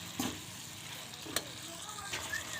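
Onions with masala frying and stirred in a pan, a few spoon scrapes over a faint low sizzle, close and quiet.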